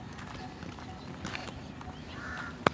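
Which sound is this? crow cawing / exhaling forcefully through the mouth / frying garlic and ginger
crow cawing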